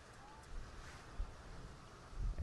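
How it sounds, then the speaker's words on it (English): A gust of wind blows across an outdoor high school baseball field during a game, a steady broadband rush with low rumbling buffets against the microphone, swelling toward the end, with no clear talk. "there's a gust of wind."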